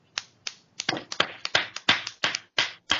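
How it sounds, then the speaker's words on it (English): A small audience gives a short round of applause, mostly a handful of sharp, separate claps spaced unevenly across a few seconds, close and fairly soft, with no talking. "I'm gonna give a round of applause to Zach"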